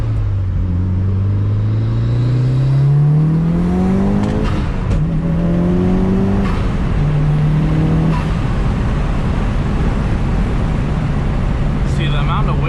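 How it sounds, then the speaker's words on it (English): A Mitsubishi Lancer Evolution VIII engine with full bolt-ons revs and climbs through gears up close, its droning pitch rising and dropping with each shift under constant road rumble, loud exhaust included. "because you're hearing the car, you're not just hearing loud exhaust noise."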